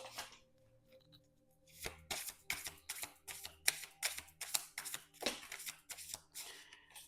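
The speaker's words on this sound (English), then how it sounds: "But I'm going to shuffle again and see what truly wants to come out." Tarot cards are shuffled close by in a steady run of crisp riffling and slapping bursts, with no voices present.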